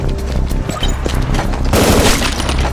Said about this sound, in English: Aim down your sight and shoot the targets.